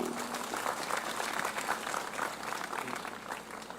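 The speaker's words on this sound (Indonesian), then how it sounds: "Tepuk tangan untuk Pak Bupati." An audience at an Islamic boarding school gathering applauds the regent in a continuous, even wash of clapping that holds its level throughout, with a faint voice beneath it.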